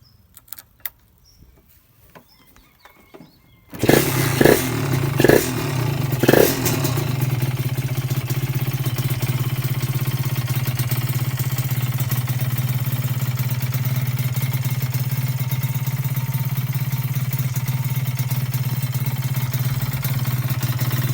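Old Honda Dash motorcycle in blue and white with a donut-style tail, its engine starting up after a few quiet clicks and then idling steadily and loudly with a low, even drone, a couple of brief revs early on.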